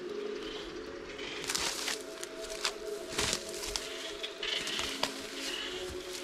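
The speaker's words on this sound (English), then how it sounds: "You can see all the bird life going around." Wild birds call on an untouched island, with several clear chirps and cooing calls at moderate distance over a steady background hum, some sharper clicks scattered between them.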